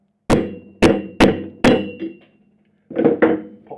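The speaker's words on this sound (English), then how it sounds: "just a gentle tap with the nylon hammer" A nylon hammer taps a Range Rover propshaft universal joint: four sharp knocks in quick succession, then two more after a pause, each a close, solid thud with a short ring.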